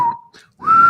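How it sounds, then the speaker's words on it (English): A person whistles nonchalantly through speakers during a video game session, two short, clear, close tones separated by a brief gap, the second note held and slightly wavering. "start whistling in a nonchalant manner that I play over the speakers"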